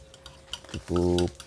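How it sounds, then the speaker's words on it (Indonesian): A spoon stirs beaten eggs and a mixture in a bowl, with light clinks followed by a brief ringing scrape against the side, close and fairly quiet. "Kita aduk, campurkan."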